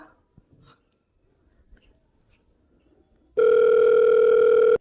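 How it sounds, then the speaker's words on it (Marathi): After near silence with faint rustles, a steady electronic phone-disconnected tone sounds loudly for about a second and a half as a call is cut, then stops. "फोन कट केला"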